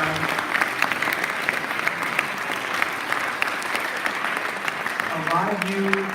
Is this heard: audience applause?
yes